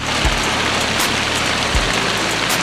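Heavy rain pours steadily beside a brick kiln, a loud, dense hiss of drops hitting surfaces, broken by a couple of dull low thumps.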